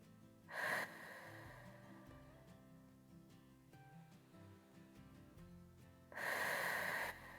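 Two audible breaths during a yoga Pilates stretch, a sharp nasal inhale near the start and a longer breath near the end, close and quiet over soft background music.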